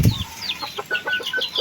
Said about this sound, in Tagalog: Ito yung itim is bagong inahin yan.